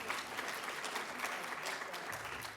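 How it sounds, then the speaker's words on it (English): An audience at a library lecture applauds in a continuous wash of clapping, steady and fairly loud from start to finish, with no one speaking over it. "yes, you can clap for that, because that's true"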